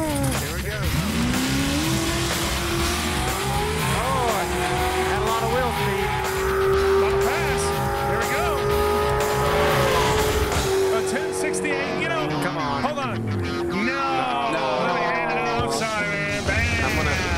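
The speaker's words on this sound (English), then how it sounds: "We've got ourselves a drag race." Drag-racing cars roar and accelerate hard in a NASCAR-themed drag race, with a loud sustained engine pitch climbing and shifting, tire squeal, and a second burst of revving later, while excited voices talk over it.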